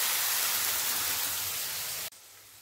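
Curry spice paste frying in hot oil gives a steady, dense sizzling hiss, fairly faint and even, then drops sharply to a quieter hiss near the end.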